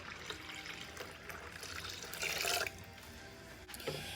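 Cold water trickles and pours steadily into a pitcher, swelling louder for a moment before tapering off into light splashing.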